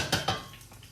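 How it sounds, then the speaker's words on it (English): A wooden spoon stirs half a lemon around in a pan, giving two quick close scraping knocks early on, then softer rubbing movement fading out. "I'm going to use the same wooden spoon, stir it around,"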